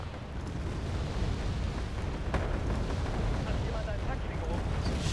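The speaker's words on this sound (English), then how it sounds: "So shooting rockets." Rockets launched in Wargame: AirLand Battle, a dense continuous roaring barrage with a sharp crack partway through, heavy and loud throughout with a low rumbling wash and no voices heard.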